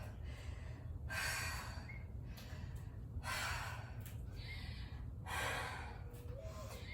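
Heavy, rhythmic breathing while resting between workout sets, with about three long loud exhale bursts and quieter inhales in between, close to the microphone with steady low background hum.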